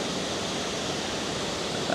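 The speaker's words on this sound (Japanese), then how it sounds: "こういった養老の滝が広く見渡すことができます。" Yoro Falls in Chiba's Yoro Valley, swollen after heavy rain, gives off a continuous broadband roar of rushing water, loud and unbroken for a couple of seconds.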